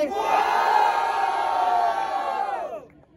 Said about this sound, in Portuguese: Barulho, quem gostou das rimas do Black Panther?